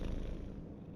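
A cat in the video game Marvel Midnight Suns purrs softly while being petted, a quiet, low, steady rumbling flutter heard alone for about a second.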